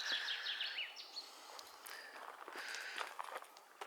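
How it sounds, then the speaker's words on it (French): Small birds chirping outdoors during a family road trip in Turkey, with bright, high chirps in short bursts scattered through the clip over soft ambient rustling and light footsteps. "on entend les petits oiseaux là, c'est trop agréable"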